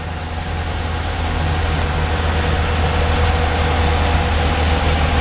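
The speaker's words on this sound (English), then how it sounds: "Absolutely beautiful sounding motor." A 2012 Dodge Charger SRT-8 V8 idles just after start-up with a steady, loud, deep rumble that holds even and unbroken throughout, with no voices.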